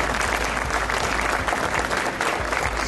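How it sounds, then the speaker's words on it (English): Enthusiastic applause from an audience at an award ceremony honoring a family, a dense, loud and steady burst of clapping over a low room hum, with no speech. "I'd like to give a round of applause to the great family"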